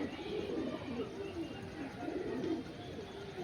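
Large Malwai pigeons cooing in steady, overlapping low throaty calls, close and continuous, with no talking.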